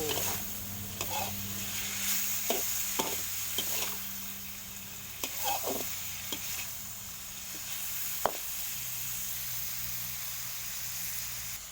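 Small shrimp, about half a kilo, stir-fried in a wok give a low steady sizzle broken by scattered clicks and scrapes of a spatula against the metal.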